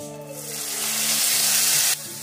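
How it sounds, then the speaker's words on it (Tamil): Tomatoes sauté with onion and ginger garlic paste for a smoked brinjal masala, a close sizzle that swells loudly then drops off abruptly near the end. "தக்காளி நல்லா நசுங்குற அளவுக்கு வதக்குங்க"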